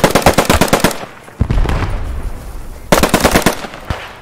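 Close, loud machine gun fire in the Post Scriptum shooter, rapid bursts of evenly spaced shots, a pause filled with rumbling echo, then another quick burst.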